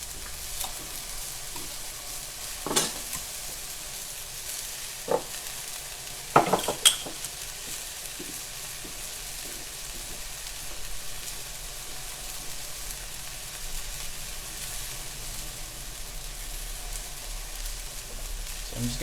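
King trumpet mushrooms sizzle steadily in a hot pan, with a few sharp clinks and scrapes of stirring against the metal and no voices.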